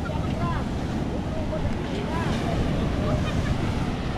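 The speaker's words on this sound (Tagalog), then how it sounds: "Oh, lalaki ng alon." Large ocean waves at sunset give a steady, loud rush of surf with wind buffeting the microphone throughout. Faint voices sit in the background.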